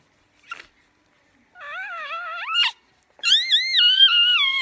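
A newborn puppy, just delivered, cries in high, wavering squeals, two long wails after a faint short squeak, close and loud with a brief pause between them.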